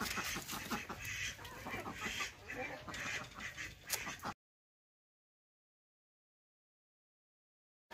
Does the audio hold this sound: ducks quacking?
yes